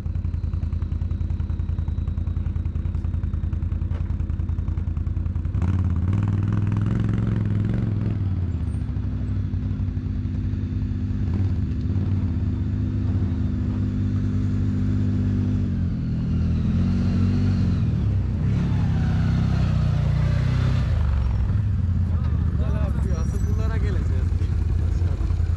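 A parked motorcycle engine runs on a mountain-pass trip at Köroğlu Beli, holding a steady low idle and then revving higher for several seconds before settling again. It is loud and close, with voices talking over it.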